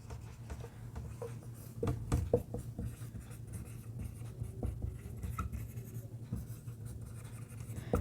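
Chalk or marker taps and scratches across a classroom board in short irregular strokes, fairly faint and close, over a low steady hum with no talking.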